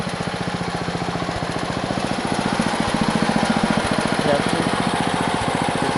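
A Bolens Husky garden tractor with a plow attached runs its engine with a steady, close, throbbing putter, a rapid even firing rhythm that swells slightly midway, with no speech over it.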